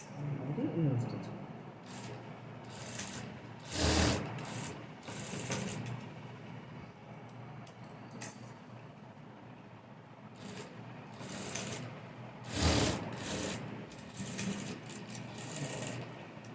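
A sewing machine stitches a blouse in short, loud rattling bursts with pauses between them. Someone speaks quietly in the gaps.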